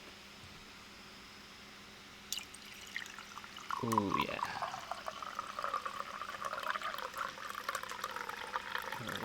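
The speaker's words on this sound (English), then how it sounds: "let's get the nice water pouring ASMR" Water pours into a container up close, a soft steady splashing rush that begins with a clink and rising gurgle, with a man murmuring briefly over it.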